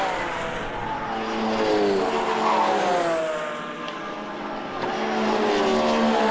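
Racing cars at Zandvoort in the Supercar Challenge, a Seat passing for the lead onto the front straight, loud sustained engine roar with pitch sweeping as several cars rush past close by.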